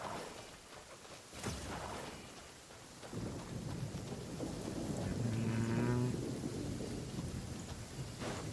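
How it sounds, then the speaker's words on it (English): Steady rain pours with rolling thunder in Kingdom Come: Deliverance II, a low rumble swelling around the second and third seconds before the downpour holds on, loud and close, with no talking. "Rain. I hear it."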